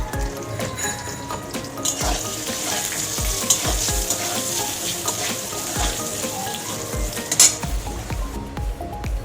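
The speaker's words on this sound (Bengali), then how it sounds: "বেগুনটা একটু নুন হলুদ দিয়ে ভেজে নেব" Brinjal pieces seasoned with salt and turmeric fry in hot oil, a loud, continuous close sizzle with occasional clinks and scrapes of a spatula against the pan, no voices.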